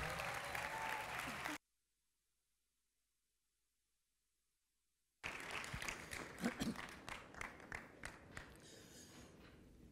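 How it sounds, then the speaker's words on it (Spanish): An audience applauds at a public science lecture on Mars. Dense clapping opens the clip, cuts to near silence for a few seconds, then returns as loud, uneven clapping with scattered louder bursts. "Le damos un aplauso y lo recibimos en este escenario"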